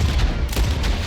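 Video game gunfire erupts in a brief, dense burst of loud overlapping shots and booms, filling the short moment with no pause and no speech.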